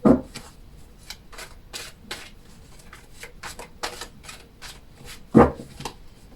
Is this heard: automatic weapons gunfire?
no